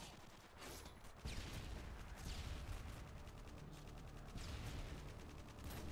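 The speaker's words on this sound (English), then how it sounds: "I hear a sniper or something." Distant gunfire in a first-person shooter game, rapid bursts of shots and rattling reports echoing far off, continuous at low level with no talk.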